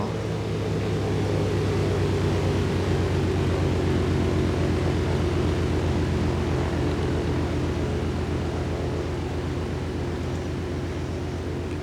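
Steady, loud airplane engine drone from the DayZ video game, holding an even broadband roar with a low tonal hum throughout and no voices.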